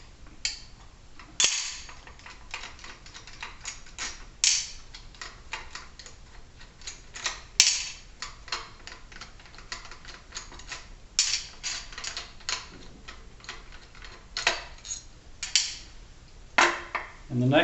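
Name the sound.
7/16 wrench removing four hex bolts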